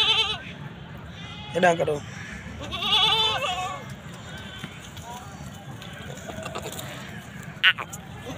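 Goats at a Sindh farm, a breeding buck among several does, give a few short bleats close by, interleaved with a voice talking and background rustle.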